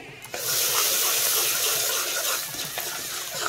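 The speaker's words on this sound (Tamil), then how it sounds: "இதில் கொஞ்சமாக ஒரு தண்ணி ஊற்றிக்கலாம்." Steady broadband rush of water poured into a cooking pan, continuous and fairly loud for a few seconds, with faint clinks near the end.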